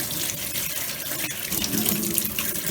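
Tap water runs steadily into a sink as cure is washed off firm fish being prepared for smoking, a continuous close splashing rush with no pauses.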